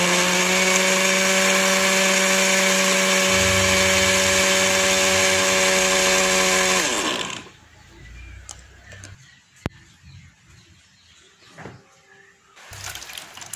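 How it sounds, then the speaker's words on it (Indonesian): A blender whirs loudly and steadily for several seconds pureeing steamed sweet potato with water, then cuts out, leaving faint clinks and handling noises. "Setelah itu, blender ubinya ini sampai halus."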